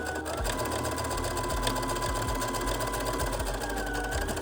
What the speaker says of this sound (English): line up the ends and sew right here